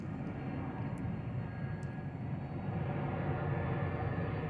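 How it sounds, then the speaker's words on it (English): A vehicle passing by outdoors, heard as a steady, broad rumbling roar that swells slightly toward the end, with no voices over it. "Give me a moment because a vehicle is passing by."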